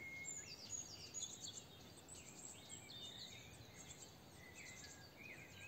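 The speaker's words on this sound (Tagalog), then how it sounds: "Rinig niyo ba ang mga huli ng ibon dito sa paligid?" Faint birdsong drifts from a distance, high chirps and short trills over a soft bed of insect buzz.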